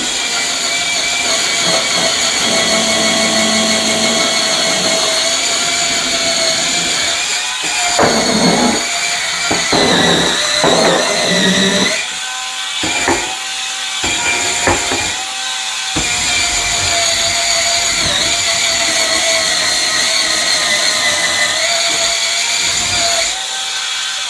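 A cordless electric spin scrubber runs on its lowest power setting, giving a steady, close motor whine with a few brief dips and stutters in the middle before settling back to a constant hum.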